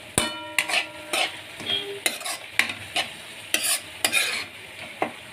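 Curry leaves fry in hot oil for a paneer curry, giving a steady crackling sizzle broken by repeated sharp scrapes and clinks of a spoon stirring the pan, close up, with no voices.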